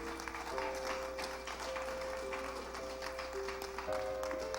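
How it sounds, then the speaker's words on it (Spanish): A church congregation claps for the King during a Spanish-language sermon, steady broadband clapping under sustained organ or keyboard notes for several seconds. "Dale un aplauso al Rey con todo tu corazón"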